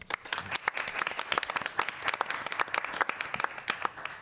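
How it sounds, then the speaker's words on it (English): Moderate applause from a school board meeting audience, with irregular individual claps steady throughout, fairly close and without talk over it. "so maybe we can give them a round of applause."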